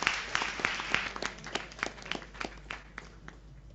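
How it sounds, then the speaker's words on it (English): A small audience at a high school debate claps for a speaker, with sparse, distinct, irregular claps heard nearby that thin out toward the end. "A round of applause for Dr."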